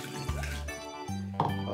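Water poured into a bottle for a dry ice volcano experiment, a short liquid fill with light clinks, heard close in two brief bursts.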